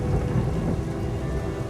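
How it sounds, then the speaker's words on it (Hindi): A heavy thunderstorm with rain, a dense continuous roar of rainfall under a deep rumble of thunder, loud and close throughout. "तूफान कुछ ज्यादा ही तेज है आज।"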